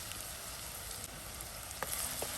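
Finely chopped onions and slit green chillies frying in oil for egg rice give off a constant close sizzle, with a couple of brief stirring scrapes near the end and no voices.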